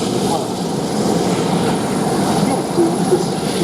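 A helicopter at a Fly Navy air show at Shuttleworth drones with a steady low rotor and engine rumble, moderately loud and continuous, heard outdoors behind the bustle of a crowd.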